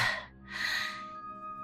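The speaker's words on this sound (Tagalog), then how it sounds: "Grabe ang hingal na nararamdaman ko ngayon Para akong mapuputulan ng paghinga" Heavy, ragged gasping for breath from a person who feels they can barely breathe, two loud breathy pulls in close succession, then a quieter trailing hum. No words are spoken.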